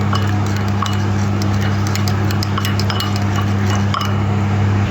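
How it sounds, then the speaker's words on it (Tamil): Steady clinks and scrapes of a spoon mixing a mutton biryani marinade with food colour and rose water in a bowl, close and continuous over a constant low kitchen hum, with no talking. "இன்னொன்று ரோஸ் வாட்ரு எல்லாத்தையும் மிக்ஸ் பண்ணிக்குவோம்"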